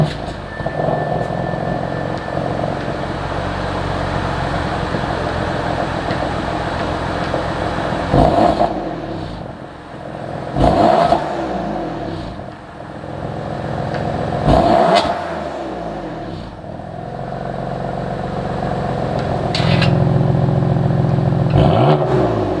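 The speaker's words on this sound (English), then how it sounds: "Before I forget, I'll do like a little cold start," A BMW F80 M3 with a straight-piped exhaust sits at idle after a cold start with a loud, steady rumble, broken by several sharp revs that spike and fall back at intervals.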